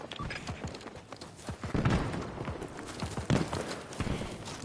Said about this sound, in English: The footsteps sounds great